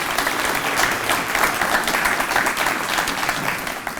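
An audience applauds the selection committee at a community awards ceremony, with dense, sustained clapping from a crowd in a hall.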